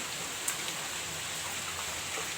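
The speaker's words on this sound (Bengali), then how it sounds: "বৃষ্টি ঝিরঝির করে পড়ছে" Soft, steady patter of light rain in Asansol, a faint even hiss with a few scattered drops, no voices.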